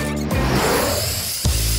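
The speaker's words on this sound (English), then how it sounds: "Tighten this screw." A cartoon sound effect of a screw being tightened, a loud, close ratcheting buzz that runs for about a second before a sharp cutoff.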